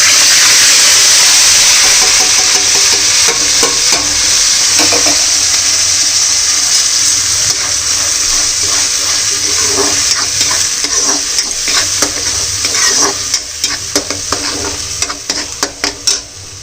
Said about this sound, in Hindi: मसाला भी थोड़ा सा भून लेता हूँ।